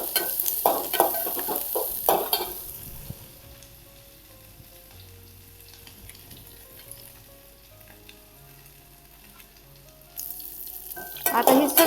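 Curry leaves and coriander fry in hot oil for masale bhat, crackling loudly at first with stirring scrapes, settling to a quiet simmer, then flaring up again with bursts of spattering near the end.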